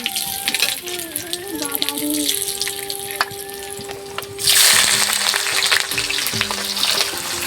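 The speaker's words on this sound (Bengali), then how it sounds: "এখন এই মাংস কষা হচ্ছে" Meat sautéing in a pan as a home-cooked curry nears its final stage, giving a steady sizzle with scattered stirring scrapes. Faint tonal sounds play early on, and a louder, harsher sizzle surges about halfway through and carries on to the end.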